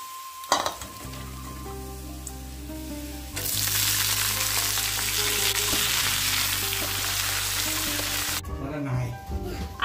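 Bitter gourd frying in a pan, a steady sizzle that swells loud midway after a sharp clink, with a low hum and faint background sounds throughout, then drops off near the end.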